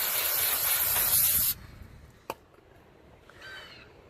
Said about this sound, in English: So you have to take some brake clean and spray this off.